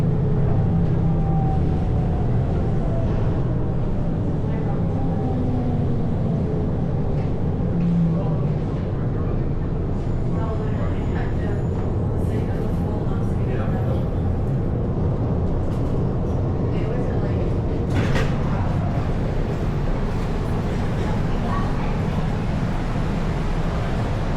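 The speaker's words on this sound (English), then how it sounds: "The train is approaching." A Brightline train rumbles into a Miami station with a steady low roar and squealing wheels, running continuously under a recorded announcement voice.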